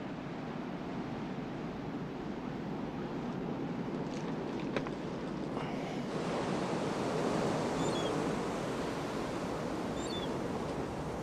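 Ocean surf washing steadily onto a beach, a continuous broadband roar of breaking waves with gusty wind noise, close and fairly loud, no voices.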